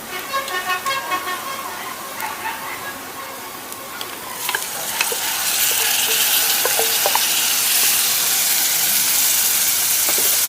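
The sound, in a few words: marinated chicken frying with golden brown onions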